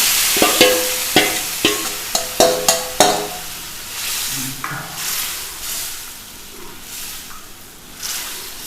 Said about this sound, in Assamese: মছলাখিনি হৈছে এইখিনি দি আছোঁ এনেকৈ অলপ ভাজি ল'ম